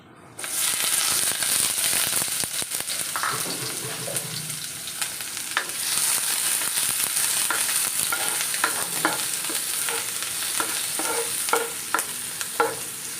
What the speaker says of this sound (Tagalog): pagsasabayin ko na bali, igisa ang onion and garlic